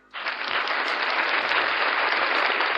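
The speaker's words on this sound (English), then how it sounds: "So, give him a round of applause" A crowd bursts into a round of applause, a dense, steady wash of clapping that starts suddenly and holds at an even, fairly loud level throughout.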